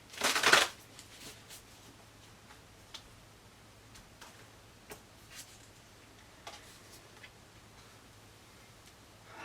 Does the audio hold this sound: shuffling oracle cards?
yes